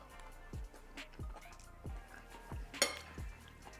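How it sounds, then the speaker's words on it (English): Lentils and sausage eaten with cutlery: soft wet squishes, a few faint scrapes and one sharper clink of metal on a dish, close and quiet with no talk. "I am eating my lentils and sausage"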